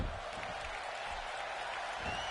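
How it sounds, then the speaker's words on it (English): A wrestling crowd in Pensacola cheers and applauds steadily throughout, a dense, continuous roar of clapping and voices at ringside with no break. "the crowd here in Pensacola is greatly appreciating these two men that they're seeing right now square off in the middle of the ring"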